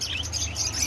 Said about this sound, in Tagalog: Mga birds, mga kalapati.